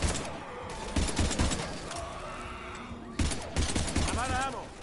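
A rapid volley of gunshots bursts out in a loud, chaotic fusillade, with a horse whinnying amid the shooting and voices shouting over the din.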